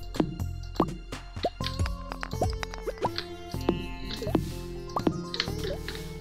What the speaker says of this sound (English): Yeah, something fell into the water.